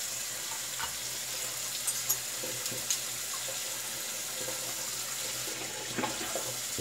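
A bathroom tap runs steadily while shaving gear, a stainless razor and a brush, is rinsed, a constant close hiss of water with a few faint clinks.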